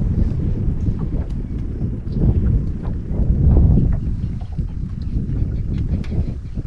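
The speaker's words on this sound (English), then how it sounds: "The wind is blowing." Steady, loud wind buffets the microphone on a small fishing boat off Cumberland Island, Georgia, a continuous low rumble with gusting swells and no talking.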